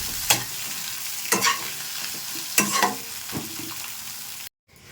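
A spatula stirs and mixes a filling with chopped coriander leaves in a frying pan for a kids' tiffin snack, four distinct scraping strokes over a soft sizzle, close by, ending in a brief silence.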